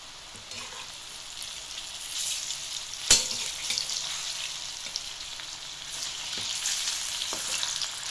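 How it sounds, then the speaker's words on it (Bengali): Jackfruit kebabs fry in hot oil, a steady sizzle that swells and fades as they are turned, broken by one sharp clack of the utensil near the middle, close and without talk. "এপিট ওপিট নেড়ে ভালো করে ভাজতে হবে যাতে কোনো অংশ কাঁচা না থেকে যায়।"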